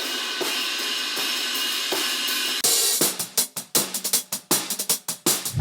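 Cymbals in a finished drum mix play as a bright, steady wash of ride or hi-hat over regular drum hits, then give way to punchy, rapid drum and cymbal strikes in a busy fill.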